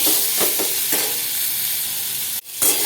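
Pointed gourd (potol) frying in oil in a pan, a steady loud sizzle with a few soft stirring scrapes and a brief sharp clatter near the end.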